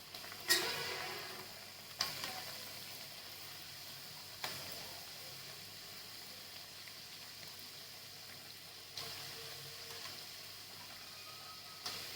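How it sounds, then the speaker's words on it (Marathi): Wheat-flour spicy puris deep-frying in hot oil give a steady, fairly faint sizzle, with a few sharper ticks and clinks from a slotted spoon scattered through. "आता अशाच प्रकारे सर्व पुऱ्या तळून घेते"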